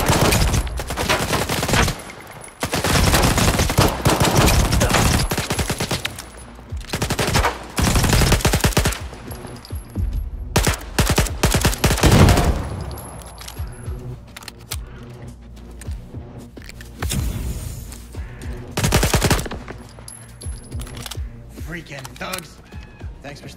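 Bursts of automatic gunfire and single shots ring out in Stalker 2, loud rattling volleys separated by pauses, with voices talking in between.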